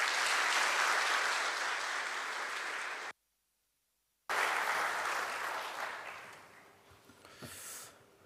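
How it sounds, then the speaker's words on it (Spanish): A church seminar audience claps loudly and steadily, breaks off abruptly, then resumes and gradually fades as the clapping thins out. "con grandes aplausos"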